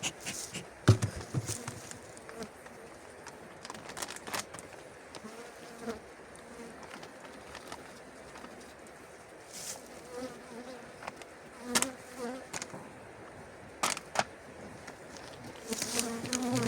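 Honeybees from an opened hive buzz steadily in close and fade, with individual bees zipping past the microphone in short loud passes over a continuous hum.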